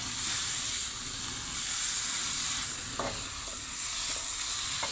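Salt and pepper shrimp stir-fried in a hot pan gives a steady, close sizzle, with occasional scrapes and taps of a utensil stirring through the frying.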